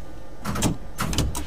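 Metro train doors slide shut in the Subtransit Drive video game, giving a few mechanical whooshing thumps over a steady low hum of the train.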